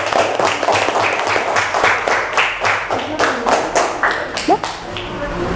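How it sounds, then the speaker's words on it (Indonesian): Classroom of primary school pupils clapping for a student group after its presentation, a steady burst of dense hand claps close by that thins out toward the end, with a voice briefly heard. "tepuk tangan buat kelompoknya"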